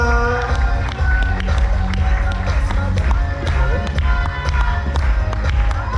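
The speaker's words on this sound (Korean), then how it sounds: "뜨거운 박수 부탁드립니다." An audience at a pin award ceremony in a resort hall claps for new agency heads coming forward, with dense clapping over loud background music and crowd noise, steady throughout.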